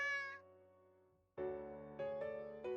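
A kitten in a video game lets out a high meow that trails off, then after a short pause gives three more drawn-out meows in a row, close and clear.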